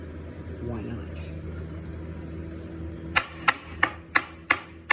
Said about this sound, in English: I am cutting up some mushrooms and some onions right now